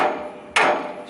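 A single sharp hammer strike on a loose lower ball joint of a 2000 Honda Accord, a loud metallic whack that rings briefly and fades, with no talking.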